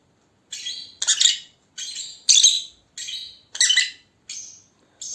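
A paradise parrot sings in a series of about eight bright, chirping phrases, each roughly half a second long with short gaps between them, close and clear against a silent background.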